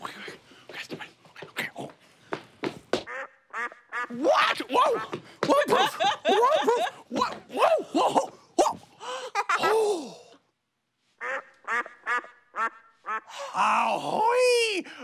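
A small duck quacks in a children's pirate-mystery show, mixed with lively character voices, exclamations and cartoonish vocal sounds throughout.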